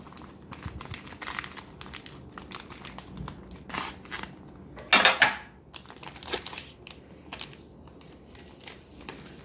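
A ration-pack sachet of chocolate orange hot drink from a UK 24-hour ration is cut and torn open, giving close crinkling and rustling of foil packaging with one louder tearing burst midway.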